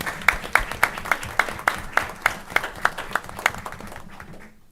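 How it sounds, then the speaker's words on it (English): A small group claps in a slow, steady rhythm of distinct, crisp claps at a board of education meeting, then the sound fades out near the end. "Please join me one more time in giving these ladies a big round of applause."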